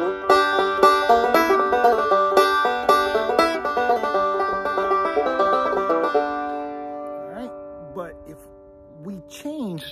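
A 5-string banjo plays the G 302 lick, a quick bright run of picked notes for about six seconds, then ringing sustained notes with a few slides near the end.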